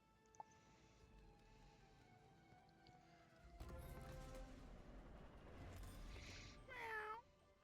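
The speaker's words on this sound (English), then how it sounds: "Meow." A cat meows in the online game Wizard101, a short rising-and-falling meow near the end, following quiet game background sounds and a burst of broadband noise.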